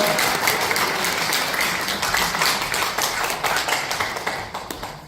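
A lecture audience claps steadily after a special talk on saving lives, a dense wash of applause that holds for several seconds and slowly thins out toward the end.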